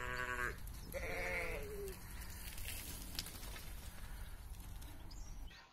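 Sheep bleat loudly and insistently, two long harmonic calls close together near the start, then a noisy outdoor background with more distant bleating and bird-like calls continuing.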